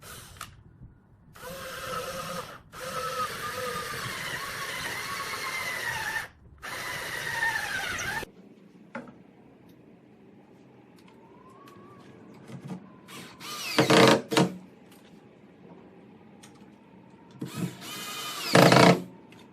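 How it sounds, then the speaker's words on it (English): A power drill whines steadily in long bursts, pre-drilling a hole into a wall stud, stopping and restarting, followed by quieter mechanical clicks and a couple of brief louder whirs. "because you're drilling on a stud, you want to pre-drill the hole"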